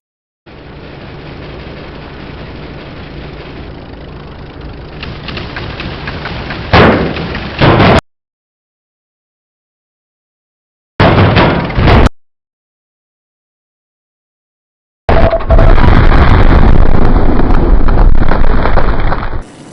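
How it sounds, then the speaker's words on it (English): An enemy plane rams a Ju 87 Stuka in the Wings of Duty game: a roaring engine-and-wind drone breaks into sudden loud bursts, cut by silent gaps, before a heavy, sustained crash of noise. "he just slams right into my plane"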